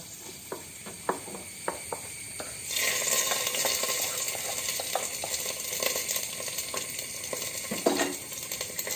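A pan of pachoru, a sweet rice dish, being stirred: a run of sharp scraping clicks from the spoon for a few seconds, then a steady sizzling hiss with occasional knocks against the pan, fairly close, with no talking.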